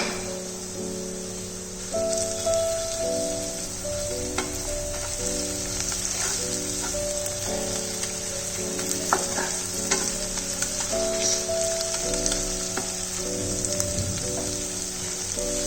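Chili paste fries in a pan with already-fried onion and garlic, giving a constant loud crackling sizzle. Soft stirring scrapes rise above it now and then, and a steady background hum runs underneath.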